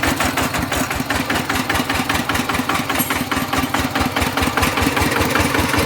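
A used walk-behind rice-field tractor engine idles steadily, a loud, close, even chugging with a regular fast pulse and no pauses, heard alone without talk.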